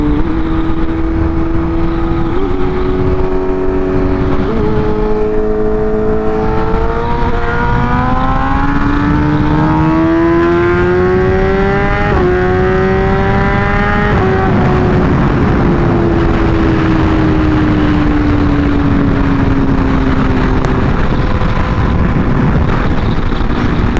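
A motorcycle running on E85 fuel accelerates hard through several gear shifts, engine note climbing and dropping with each change, loud and close for the whole stretch with no talking.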